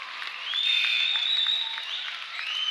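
A home crowd at a boys' high school basketball game applauds and cheers, a sustained wash of clapping with a bright whistle-like shout riding over it, swelling then easing slightly.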